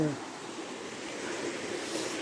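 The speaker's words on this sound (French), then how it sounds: "vous m'entendez avec les cascades mais c'est normal, elles sont juste là" Waterfall cascades beside a stone bridge at the Notre-Dame de la Paix sanctuary produce a constant, close rushing roar, with a person talking over the water.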